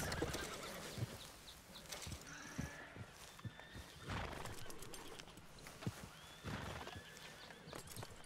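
Horses in Red Dead Redemption 2 whinny and neigh several times over steady clip-clop hooves and ambient background, with calls rising at intervals throughout.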